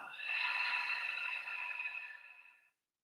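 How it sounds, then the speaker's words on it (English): A steady breath is drawn in and out during a yoga breathing exercise, a soft airy rush that holds for a couple of seconds and then fades into silence. "Let's do that two more times together. Inhale and exhale."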